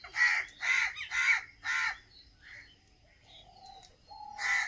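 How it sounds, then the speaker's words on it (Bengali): A crow caws four times in quick succession, loud and close, then a pause with faint bird calls before another harsh caw at the end. "কাকটা উপরে গিয়ে ডেকে সবাইকে এক জায়গায় করতে চাইছে"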